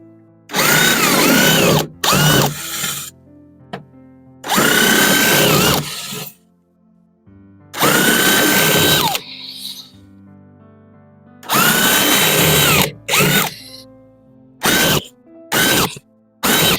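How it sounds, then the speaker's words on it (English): Power drill with a long masonry bit boring holes through thick foam for a cheap hot composter, running in loud repeated bursts of a few seconds each with short pauses between. "the only drill bit I've got that's long enough to go through this thickness of foam"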